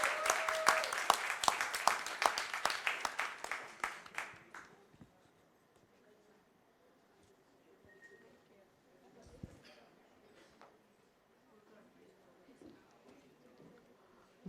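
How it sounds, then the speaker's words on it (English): Audience at a Rotary club presidential installation applauds the team in a loud burst of clapping that fades out after about four seconds, followed by quiet room noise with scattered faint bumps. "I think the team deserves a big applause"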